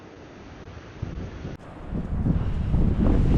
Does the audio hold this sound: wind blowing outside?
yes